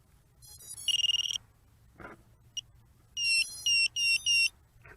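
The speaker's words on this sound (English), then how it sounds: "Pretty cool beeper, huh?" Electronic beeper on an Eaglet 85 mini 85mm FPV racing drone, sounding a short burst of rapid high beeps, then a quieter pause with a soft click, followed by a longer melodic series of loud, clear tonal chirps in quick succession.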